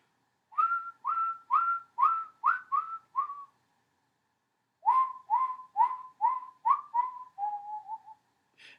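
Human whistling imitates birdsong within a recorded song: two runs of short, evenly spaced chirping notes separated by a pause, clean and fairly soft.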